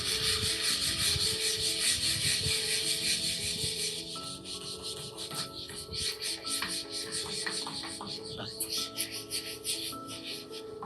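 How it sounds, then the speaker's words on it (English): Hard, vigorous rubbing on a surface during cleaning, a continuous dense scrubbing that turns into quicker, choppier strokes partway through, close and fairly loud. "Bro's rubbing hard."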